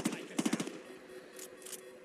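Rapid automatic gunfire from SWAT weapons in the Saints Row 2 video game, a quick burst of several shots followed by lighter scattered pops and a couple of distant hissing bursts.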